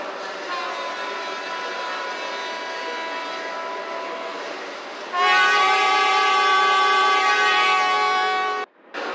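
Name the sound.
Manhattan Limited express train arriving at station, Trainz video game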